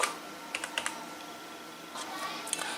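Computer keyboard typing while HTML code is written, a few quick clusters of light clicky keystrokes separated by pauses, fairly close and soft, with no voice over it.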